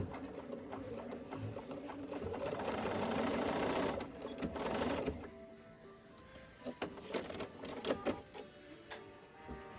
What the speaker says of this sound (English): I do sew with the pin in. I just go really slow so I don't break my needle.